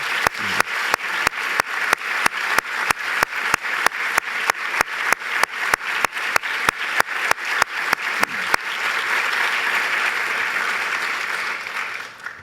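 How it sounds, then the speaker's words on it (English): Audience applause in a lecture hall at a medical school's annual address: a steady, dense wash of many hands clapping, sustained loudly for over eight seconds, then fading into continued lighter clapping and room noise. "Just want to have a round of applause for all of these remarkable."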